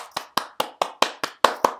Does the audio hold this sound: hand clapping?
yes